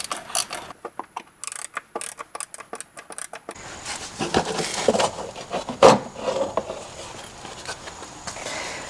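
Ratcheting and rubbing of a 10mm socket working cover bolts loose under a Porsche 986 Boxster, a run of quick close clicks at first, then steadier scraping and handling noises with one sharper knock.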